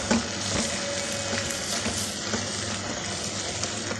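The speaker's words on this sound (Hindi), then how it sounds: "तो टमाटरों की जगह हम इसमें दही डालेंगे" Yogurt goes into a chicken curry sizzling in a pan, giving a continuous moderate frying hiss with faint bubbling and light stirring, no voices.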